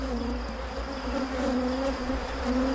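Loud, close buzzing of honeybees being tipped into a hive to form a swarm, a continuous dense drone with a steady pitched hum and no voices.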